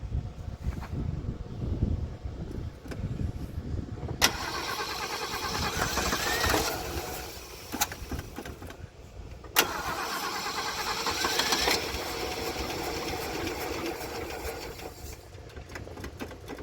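A Ford Ranchero engine cranking with a rapid whirring starter that catches and runs briefly in two long attempts, then falters without revving up, close and fairly loud.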